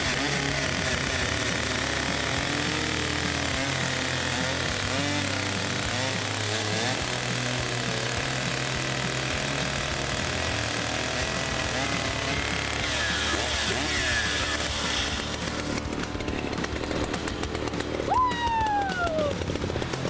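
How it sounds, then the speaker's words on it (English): Large chainsaw cutting through wood, a steady loud snarling engine drone running continuously for about twenty seconds, with pitch wavering as the chain bites and a rising whine near the end. "Chainsaws allow users to cut trees, branches, or large logs much faster than manual saws."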